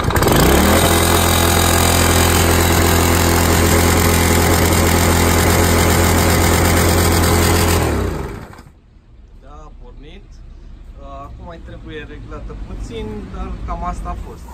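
A small Chinese lawn mower engine runs loudly and steadily with a hard, buzzing idle for about eight seconds, then cuts out, leaving a quieter background with some faint talk.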